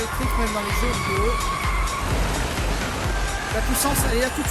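Electric race car in the mobile game Real Racing 3 runs a circuit with a steady motor whine and tire noise, continuous and fairly loud, mostly covered by a voice.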